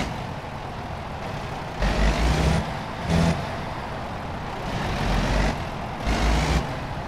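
A heavy truck in American Truck Simulator squeezes past a tree, engine rumbling steadily with several short louder surges, alone with no voices.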